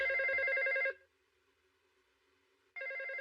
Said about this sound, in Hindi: अरे कितनी देर से फोन की घंटी बज रही है।